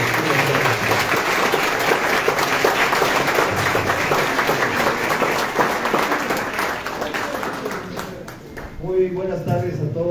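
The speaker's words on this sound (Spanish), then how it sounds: "para que pida un fuerte aplauso" An audience applauds at a formal event on human rights and liberties, giving a loud, sustained burst of clapping throughout that thins out near the end as a voice begins speaking.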